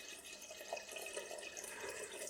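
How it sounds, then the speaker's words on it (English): Water pouring steadily into a one-gallon fermenter of canned peach wine must, a continuous broadband splashing that holds at an even level throughout with no talking. "We may as well start adding in some of our water."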